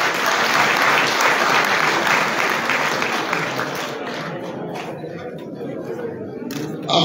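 Crowd at a youth empowerment event applauds as speakers are called up, a loud dense wash of clapping that thins toward the end with some chatter underneath.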